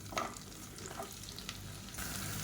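Long-sliced onion hits hot oil in a pan with a steady, close sizzle and crackle, briefly stirred, and the frying swells louder toward the end.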